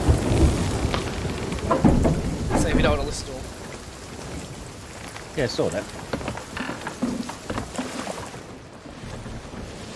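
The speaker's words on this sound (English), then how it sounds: "That's a big storm coming at us there." Steady heavy rain with rumbling thunder from a storm in the game Sea of Thieves fills the clip, with people talking casually over the storm throughout.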